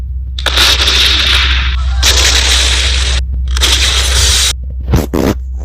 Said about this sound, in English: time to explode anyways